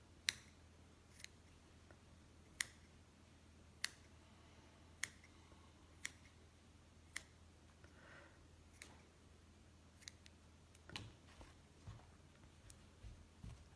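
Scissors snip the loose yarn ends of a small handwoven piece, a dozen or so crisp, separate clicks spaced about a second apart, close and quiet against a low steady room hum, with a brief rustle of handling near the end.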